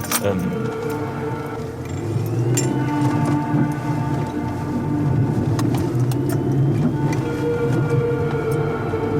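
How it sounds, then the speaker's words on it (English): A bus approaching along a road, a steady low engine rumble building up with general traffic noise, continuous and fairly loud throughout, with no one talking over it. "I think I'll just have to move the car because there's a bus approaching"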